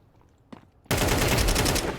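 A Desert Eagle pistol fires in Counter-Strike 2, one faint crack followed by a loud, sustained barrage of gunfire that fills the rest of the moment.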